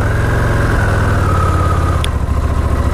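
Steady low rumble of a Buell motorcycle engine idling close by, continuous and loud with a brief faint tick partway through.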